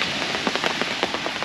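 Heavy steady rain hisses continuously, with sharp close drops pattering in an irregular rhythm against the surfaces around an outdoor airgun shooting spot.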